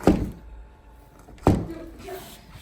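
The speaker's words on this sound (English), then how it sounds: "So this door doesn't open" Ice-frozen door being pushed during a blizzard without opening, two heavy dull thunks about 1.5 seconds apart, close and loud, followed by faint creaks and rattles.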